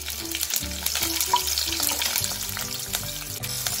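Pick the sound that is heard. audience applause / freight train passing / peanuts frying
peanuts frying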